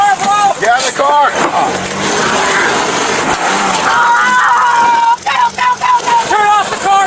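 Truck engine revs loudly and continuously in bursts during a police DUI arrest, with officers shouting commands over the roaring motor.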